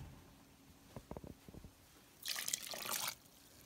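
A cup of water pours into a pot of Asian-style vegetable soup: a few soft drips and splashes first, then a short, louder gush of pouring liquid lasting about a second, heard close with no talk.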